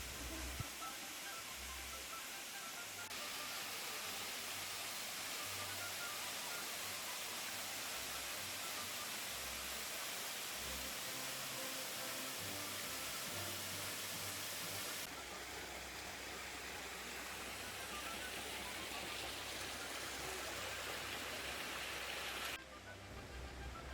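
Jogok Falls in the Mungyeong Saejae valley pours as a constant broadband rush of falling water, steady and fairly loud throughout with no talk, shifting slightly in tone midway and near the end.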